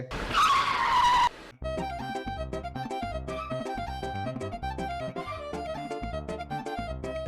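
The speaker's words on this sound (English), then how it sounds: "this whole tire screeching nonsense is pakka some CID move" A car's tires screech in a short movie: a loud, sharp squeal lasting about a second, then a brief pause before steady music with a pulsing beat takes over.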